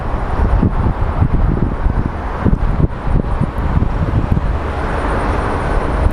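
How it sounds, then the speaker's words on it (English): Strong wind at an airport buffeting the microphone, a loud continuous roar with gusty rumbling low end and steady distant traffic-like noise beneath, no pauses. "Yeah, it's noisy, man. It's windy, so that's one thing we can't control."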